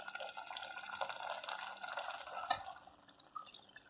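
Half a glass of water poured into a pan of keema and tomatoes cooking on the stove, a soft splashing trickle heard close and fairly quiet, with no talking.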